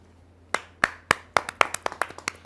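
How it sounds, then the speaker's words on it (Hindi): Sparse applause at a kavi sammelan poetry gathering welcomes a poet, with about a dozen distinct, close hand claps that start slowly and then quicken into an uneven patter before trailing off. "तालियों से अभिनंदन कीजिए उमाकांत पराशर जी"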